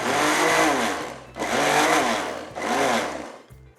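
Electric mixer blending mango pieces into juice, three loud whirring motor bursts each about a second long with brief pauses between, close up and with no voices.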